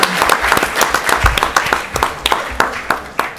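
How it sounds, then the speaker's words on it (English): Applause from a small audience at a community meeting, scattered individual claps close by with an irregular rhythm, thinning out over a few seconds. "if we could please give a big hand of applause to both fire and police"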